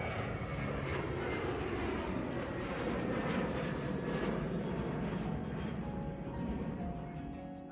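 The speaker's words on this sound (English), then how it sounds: "the planes are taking off towards the northeast" A Boeing 737 taking off very close by, a loud, sustained jet roar with rumbling low end that holds strong and begins fading toward the end.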